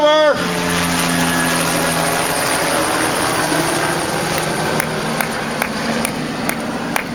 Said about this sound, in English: Hi, helicopter.